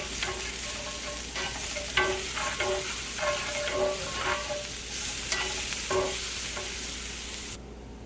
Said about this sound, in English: should fry rather quickly as long as you have your skillet still hot